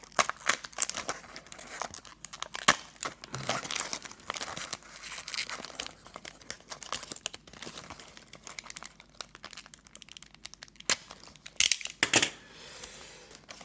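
Foil NBA Hoops fat packs of trading cards being torn and opened, with repeated crinkling, ripping and rustling bursts close up, alone without talk.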